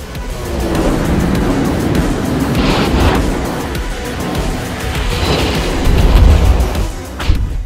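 Main guns of the Tier 9 German battlecruiser Prinz Rupprecht in a naval video game, heavy booming salvos rolling over a constant rumble of engine and sea wash, loud and close with a few sharp bursts.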